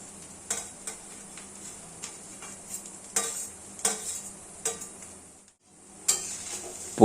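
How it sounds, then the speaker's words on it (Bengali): Green beans are stir-fried in a pan for special mixed fried rice, with soft sizzling under repeated scraping and stirring strokes of a utensil. The strokes fall in an uneven rhythm, close and moderately loud, with no talk. "এবার দেব বিনস ভাজা"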